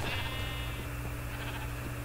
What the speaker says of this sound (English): I do need to kill some sheep bastards